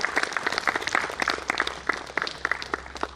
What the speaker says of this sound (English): Let us have a big round of applause.